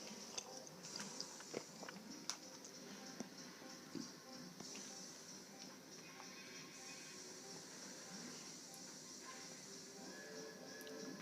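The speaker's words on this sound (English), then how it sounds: "I have a packet of crisps with me as well, because I'm basically in the middle of having my dinner while doing this." Crisps being eaten close to the microphone, faint crunchy bites and chewing scattered over a quiet background with soft game sounds.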